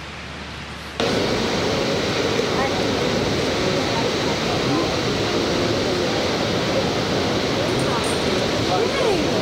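Waterfall on Hawaii's Big Island, a steady broadband roar of falling water that starts abruptly and continues loud and constant, with a voice faintly beneath it.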